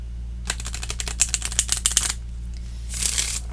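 A Lenormand deck of cards riffled close up: a rapid run of flicking cards for over a second, then a brief soft whir as they settle.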